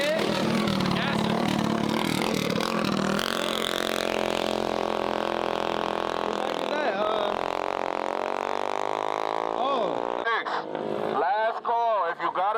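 A small gas-powered mini bike engine revs loudly and continuously at a street mini bike event, buzzing and rising in pitch up close, with voices talking underneath and the engine dropping off near the end.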